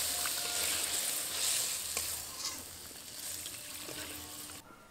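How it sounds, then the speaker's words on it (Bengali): Water poured into hot mustard oil with mustard paste in a pan for a parshe fish curry produces a steady hissing sizzle that fades gradually and then stops abruptly, with no voices. "এবার এর মধ্যে পরিমাণ মতো জল দেব।"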